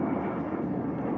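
A delivery drone flying overhead gives a steady, dense whirring drone, moderately loud and unbroken throughout, with no speech.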